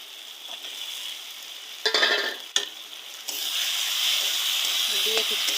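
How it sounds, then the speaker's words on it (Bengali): Prawns fry in a pan with a steady, close hiss and sizzle, broken by a couple of sharp bursts as they are stirred or turned, the sizzle swelling louder toward the end. "ভেজে রাখো চিংড়া মাছ"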